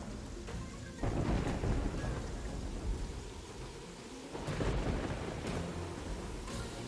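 Steady rain pours through a video game world, with loud rolling thunder swelling twice and rumbling heavily under the downpour, no voices present.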